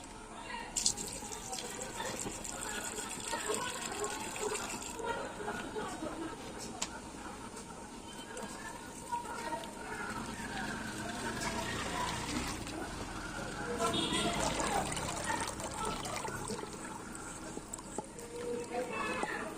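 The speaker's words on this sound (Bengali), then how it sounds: "জামগুলো কিন্তু একদম পরিষ্কার করে ধুয়ে নিয়েছি" Water splashes and trickles continuously as jamun fruits are rinsed by hand in a basin, with occasional clinks of a container and a voice talking over it.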